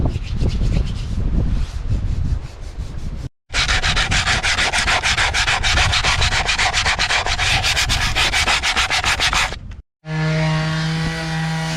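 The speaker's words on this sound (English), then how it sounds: "hard at work sanding the very rusty spots" Harsh, continuous abrasive sanding of very rusty spots on an ex-army Unimog truck, steady and close, with two brief pauses and a tonal whine near the end.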